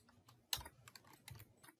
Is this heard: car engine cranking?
no